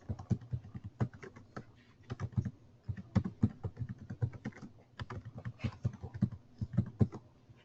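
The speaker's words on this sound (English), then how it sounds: "So let me type." Steady typing on a computer keyboard, close and clear, with irregular bursts of key clicks and brief pauses throughout, no voices.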